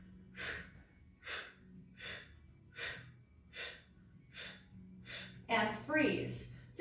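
Heavy rhythmic breathing during a yoga-Pilates fusion exercise, about eight regular forceful exhales in steady succession, close and loud, ending in a rougher, strained gasping breath.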